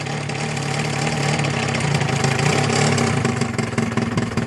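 An MVVS190 model aircraft engine with RE3 12.5-inch headers and a propeller idles low and steady, a close, buzzy, throbbing drone that swells slightly midway.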